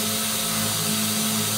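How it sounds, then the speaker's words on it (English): A power drill with a 3/8-inch Forstner bit bores through wood in a steady, close whirring drone that continues without a break and without voices. "using a 3/8 Forstner bit, I drilled right in the center of my original hole all the way through to the other side"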